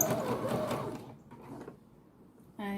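A sewing machine stitches fusible interfacing to a shirt's seam allowance during a repair, a busy mechanical whir that fades to a pause before a fresh, close run of stitching kicks in at the end.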